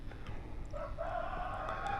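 A chicken on a farm calls out with a drawn-out clucking cry that rises partway through and holds steadily to the end, fairly faint over a low background rumble.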